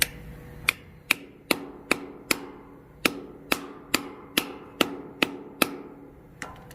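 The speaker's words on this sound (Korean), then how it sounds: "해놓고 이제 때리면 이제 캡이 벌어지겠죠?" An anchor is hammered into a hole so its cap spreads, a series of about a dozen sharp metallic hammer blows struck at a steady, slightly uneven pace, each ringing briefly and heard close with no talking.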